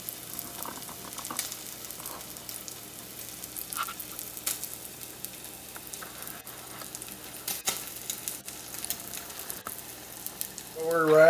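Spam sizzles and fries in a pan, a steady crackling hiss with scattered pops, close and continuous until a voice starts to speak at the very end.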